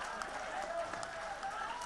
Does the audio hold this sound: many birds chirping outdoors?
no